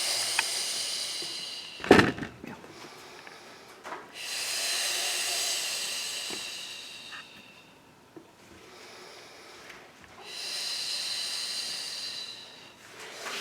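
Slow controlled breathing during a standing plank exercise, with long hissing exhalations alternating with pauses and a sharp sniff near the start, close and fairly soft.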